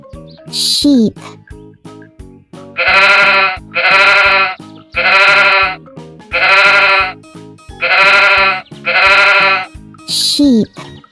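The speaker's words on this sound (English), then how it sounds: "Sheep." A sheep bleats in a rapid series of six wavering, nasal calls, loud and close, with brief higher cries at the start and end.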